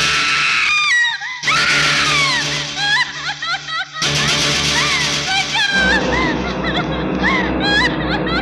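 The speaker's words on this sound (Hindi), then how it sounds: "अचानक तभी मुझे किसी की चीख सुनाई दी।" A woman screams loudly in a dramatic Hindi film courtroom flashback about a rehearsal hall, with several high, wavering shrieks and cries layered over background music and effects.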